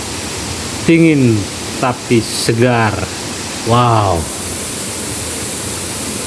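A waterfall roars as steady, loud broadband rushing at a camping spot, with someone talking briefly over the constant spray.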